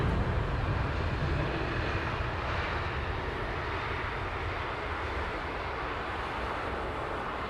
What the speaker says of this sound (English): Going past left to right in a second now will be SAS, Scandinavian.